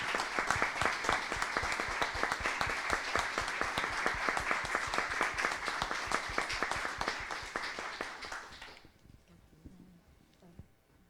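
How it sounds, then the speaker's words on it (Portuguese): An award ceremony audience at a quality forum applauds the pharmacy team with loud, sustained applause. It holds steady for about nine seconds, then cuts off quickly, leaving a quiet room. "que essas palmas são para toda a equipe"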